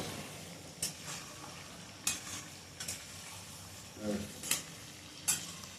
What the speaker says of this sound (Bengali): আমরা তো মাংস রান্না করছি